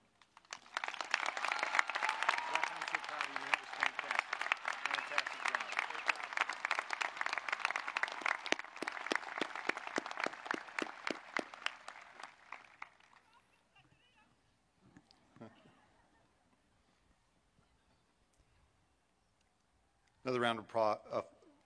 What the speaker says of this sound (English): Another round of applause for Zachariah, please.